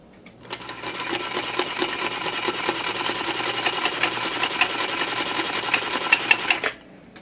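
A sewing machine with a ruffler attachment stitches fabric, pleating every six stitches: a fast, even mechanical clatter starts abruptly, runs steadily for about six seconds at close range, then stops.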